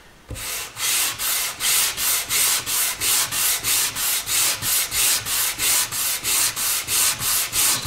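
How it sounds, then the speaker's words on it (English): A figured maple guitar top is sanded by hand in steady back-and-forth strokes, a loud rhythmic rasping at close range with about twenty evenly spaced passes. "It's expected because we are sanding after all."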